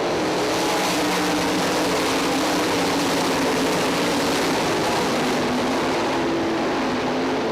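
Sprint car engines roar together in an All Star Circuit of Champions race at Eldora Speedway, Rossburg, Ohio: a loud, unbroken snarl from several cars, steady throughout and easing slightly at the end.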